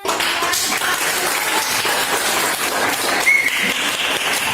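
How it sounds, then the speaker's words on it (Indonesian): Applause from an audience at a school event, dense continuous clapping filling the room at steady loudness from start to finish. "tepuk tangannya semuanya"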